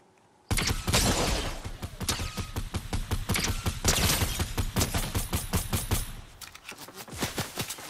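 Rapid bursts from a golden SCAR rifle in a video game, loud sustained automatic fire in dense rattling volleys for several seconds, tapering into a few spaced shots at the end.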